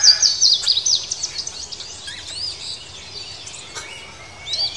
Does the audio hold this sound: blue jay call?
yes